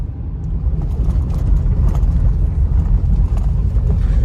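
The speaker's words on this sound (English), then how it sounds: "We're finna go over some rocks and gravel. We're gonna see how that sounds on that." A 2023 Honda Pilot EX-L rolls slowly over rocks and gravel, a heavy low-frequency road rumble with a steady crunching, rattling texture from the tires, close and loud, without talk.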